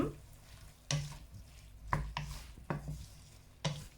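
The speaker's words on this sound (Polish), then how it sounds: "No i teraz dodaję ten por, imbir i czosnek. I pomieszamy tak kilka razy." Leek, ginger and garlic stirred in a hot pan, a steady sizzle broken by several sharp scrapes and clacks of the spoon against the pan at irregular intervals.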